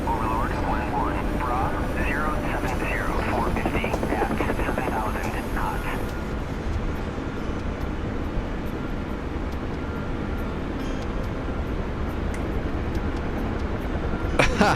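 Huey helicopter in flight at about 135 knots, a steady loud broadband rotor and engine drone throughout, with a brief voice over it in the first few seconds.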